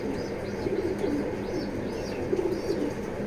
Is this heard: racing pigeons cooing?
yes